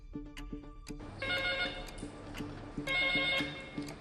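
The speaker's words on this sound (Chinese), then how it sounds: "电话一响，反正就有种条件反射就接电话。" A telephone rings in a hydropower plant control room, its electronic warble repeating in steady bursts with short pauses, loud and close, without speech.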